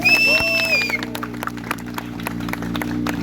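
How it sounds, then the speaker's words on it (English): At a motorcycle stunt show at the Coastal Auto Carnival 2023, a crowd breaks into clapping on a countdown; a brief whistle-like tone sounds first, then sustained applause builds. "Can we have only claps? I want only claps."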